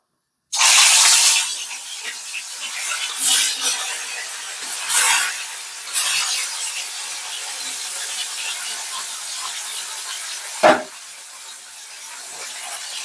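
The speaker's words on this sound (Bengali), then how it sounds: "চলো ভেটকি মাছটা ভেজে নিই" Bhetki fish pieces go into a hot pan to fry, starting with a loud, sudden hiss that settles into a quieter sizzle, with a few louder flare-ups and a sharp clatter near the end.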